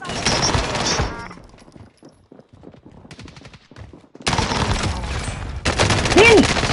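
Bursts of automatic gunfire from the Warzone video game crackle loud and dense at the start, fade to scattered distant pops with faint voices underneath, then return as heavy sustained firing.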